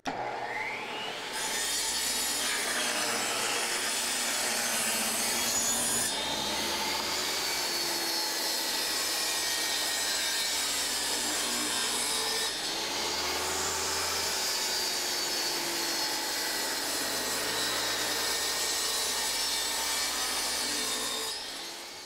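A saw, guided along a fence, cuts through an engineered hardwood flooring plank with a loud, steady grinding whine that runs continuously for about twenty seconds, shifting slightly in pitch as the wood feeds through. No one speaks.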